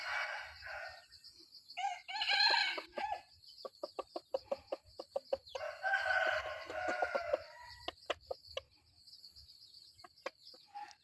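Chickens at a rural home in Laos crowing and clucking, with a rooster's crows and a run of sharp, rhythmic clucks close by, alternating loud calls and quick repeated notes with no talk.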